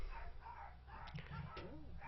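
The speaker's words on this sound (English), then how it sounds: "And my dogs decided to bark." Dogs bark in a few short bursts in the background of a podcast recording, faint and somewhat muffled, with some whimpering tones mixed in.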